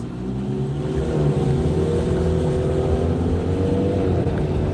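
A car engine revs hard and holds at high pitch during a burnout, a loud, steady rising drone with a gritty, rumbling texture and no talking.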